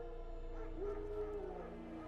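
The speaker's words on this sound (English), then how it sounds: "Wild dogs. Yes. More dangerous than wolves." Wild dogs in The Witcher 3 give a rising, sustained howl-like whine over a steady game ambience, with faint yips around it; the animal sound is moderate and continuous across the short span.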